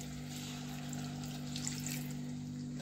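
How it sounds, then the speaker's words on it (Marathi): Water poured into a pan of egg curry makes a steady, soft splashing wash over a low electrical hum, with no talking. "थोडंसं याच्यामध्ये पाणी पण टाकते।"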